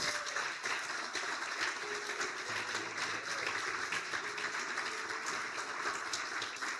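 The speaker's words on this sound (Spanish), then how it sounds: "Señor, te aplaudimos y te damos la gloria." A church congregation applauds together during a sermon, a dense, steady wash of clapping that carries on without pause, heard from a distance and fairly faint.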